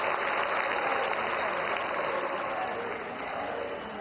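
Audience at an event welcoming the Prime Minister of India breaks into sustained applause, a dense even wash of clapping that holds steady and fades slightly toward the end, heard from a distance.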